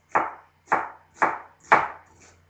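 A knife cuts through a white onion on a board in four crisp, evenly spaced chops, close and clear, with a softer fifth tap trailing off at the end.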